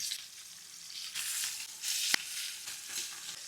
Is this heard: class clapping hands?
no